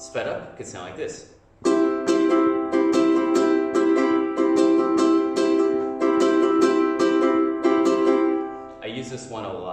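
Ukulele strummed quickly in strumming pattern number 13, a steady fast rhythm of bright chords ringing loud and close, played alone for several seconds between stretches of talk.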